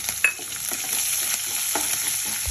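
Curry leaves hit hot oil already holding mustard seeds, cumin, chana dal and urad dal for a bottle gourd palya. A steady, fairly quiet sizzle runs under repeated scraping stirs of a spoon in the pan.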